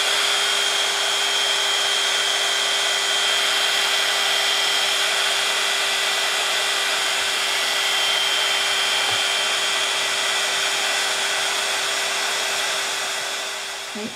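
Heat gun blowing continuously on wet glue on a Christmas craft piece, a steady loud whooshing roar with a faint whine, close and unbroken throughout.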